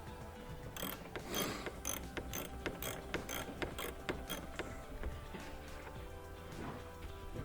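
A fine-thread machine bolt being worked in during a Prius Gen 3 headlamp assembly swap: a steady run of close, quiet mechanical ratcheting clicks and metallic ticks that continues throughout.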